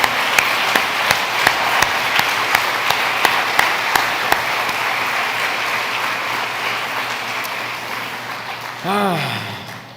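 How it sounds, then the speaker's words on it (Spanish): A church congregation applauds together in a dense, loud, sustained wash of clapping with a few sharper claps near the start, fading slightly toward the end. "¿Le puedes dar un aplauso al Señor?"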